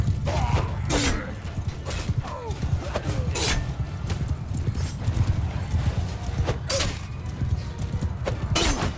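In the video game Mount & Blade II: Bannerlord, horse hooves clip-clop in a fast, uneven galloping rhythm over a low rumble, broken by a few sharp clanks and whinny-like cries.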